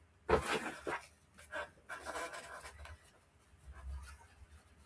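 A dog pants close by in quick, irregular breathy bursts, with some rustling of paper in a quiet indoor room.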